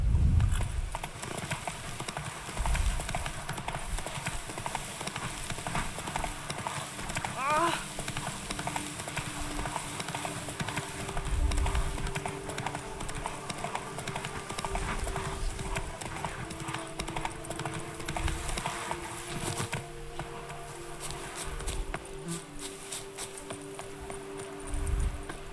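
Horse hooves clip-clop steadily through the open-world game The Witcher 3, a continuous walking rhythm at moderate level under game ambience and music, with a faint snort or whinny.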